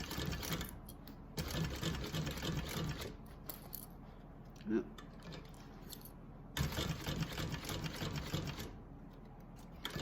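A domestic sewing machine runs in bursts as it stitches a seam, its rapid clatter stopping and restarting with quiet pauses between, close by and moderately loud, with a small click in one gap.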